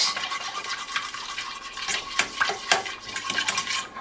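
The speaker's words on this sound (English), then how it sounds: "we are going to cook it on a flame for just a minute. Just keep mixing it." A spoon stirring chocolate glaze in a pan over a flame, with quick, close scraping and tapping strokes running continuously in an uneven rhythm and no voices.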